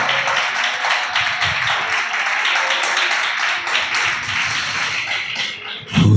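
A church congregation at a Tamil Christian worship service claps together in a steady, dense patter of many hands that carries on for several seconds, ending in a louder burst.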